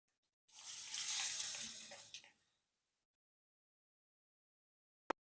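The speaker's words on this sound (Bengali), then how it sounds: "এবার এই পেস্ট আমি কড়ার মধ্যে দিয়ে দেবো" Spice paste dropped into hot mustard oil seasoned with nigella seeds and asafoetida in a wok gives a sudden loud sizzle lasting about two seconds, then fades to silence before a single sharp click.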